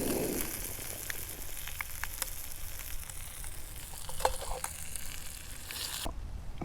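Bass fillet frying in butter in a pan outdoors at a lake, a steady close sizzle with soft crackles and pops that runs throughout and cuts off near the end.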